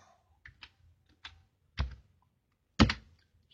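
A computer keyboard typing a Mitsubishi PLC move instruction, a few sparse key taps that grow louder toward the end, close and alone in a quiet room.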